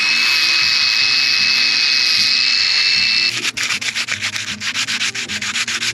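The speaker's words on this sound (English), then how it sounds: "we go ahead and grind." An angle grinder works over cured fiberglass on a sailboat repair, first a steady high whine, then a rougher rhythmic grating as the disc bites into the glass, loud and close.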